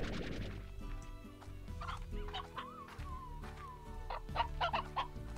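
Rock hens in the video game Slime Rancher cluck and squawk repeatedly over steady game music, with a bright burst of calls near the end.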